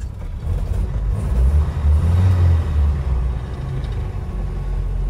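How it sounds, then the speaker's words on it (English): A Land Rover Series III with a broken axle idles in gear with the clutch let out, giving a continuous close, low engine rumble that swells slightly and then holds steady, with no talk. "if I put it into gear, let out the clutch, you can see we are not moving anywhere"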